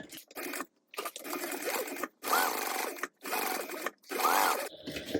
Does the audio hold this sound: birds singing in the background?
no